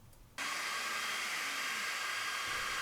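Creality Falcon2 40W laser cutter working through thick 8mm balsa, a steady broad airy whoosh of the fan and air assist that starts abruptly and holds constant, close and fairly loud.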